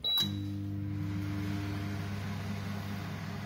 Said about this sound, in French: Direction micro-ondes. Puissance maximum pour, bon je dirais 1 minute pour l'instant